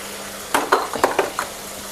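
Vegetables with added salt are stirred in a pan, several quick scraping clatters of a utensil against the pan over a faint steady sizzle, close and alone.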